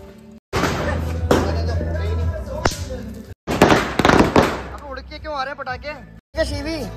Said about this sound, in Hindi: अब हम चलते हैं सीधे दिवाली के पटाखे फुड़ाने तो देखो आप कितने मस्त हमने पटाखे फुड़ाए